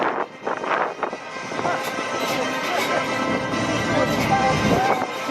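Military jet flying at the New Orleans airshow, a steady broad roar sustained throughout while an announcer talks over it.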